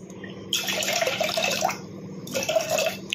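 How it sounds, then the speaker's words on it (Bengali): Mixed lentils are rinsed under running water in two bursts of close splashing and trickling, separated by a brief quieter moment, with no talking. "ডালটা ভালো করে ধুয়ে নিয়ে"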